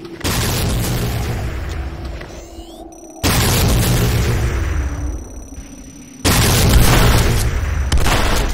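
Heavy explosions from an attack on the Nod Obelisk in the video game Renegade: three loud, booming blasts a few seconds apart, each followed by a rumbling decay, close and dominant.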